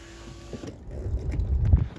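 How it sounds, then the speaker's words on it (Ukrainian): The electric window regulator motor in a Skoda Fabia driver's door whirs and strains briefly, a low mechanical hum that rises and gets louder before cutting off. "О, запрацював склоподіймач."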